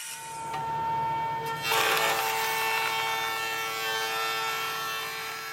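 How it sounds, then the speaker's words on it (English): A Festool Domino joiner cuts mortises into a wooden breadboard end, a steady whirring, rasping cut that swells louder partway through and holds to the end. "the mortises will not only be cut on the centerpiece of the table, but also on the breadboard"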